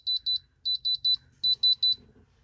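Handheld gemstone tester beeping while checking jewelry from a thrift-store lot, sharp high electronic beeps in three quick groups of two or three, close and clear with no talk.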